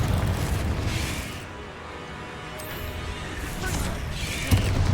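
Fire spell explosions from Hogwarts Legacy, deep rumbling booms and crackling bursts rolling over one another in a continuous loud wash of game combat, with speech mixed in.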